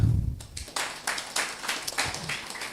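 An audience at a builders' event gives a round of applause, a fairly faint, uneven patter of hands clapping that follows a brief low thump at the start.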